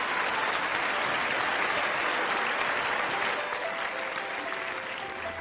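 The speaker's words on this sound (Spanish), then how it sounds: "Brindemos un fuerte aplauso a nuestras excelencias consulares." Steady, dense applause from an audience at a school closing ceremony fills the whole stretch, holding even and continuous before easing slightly toward the end.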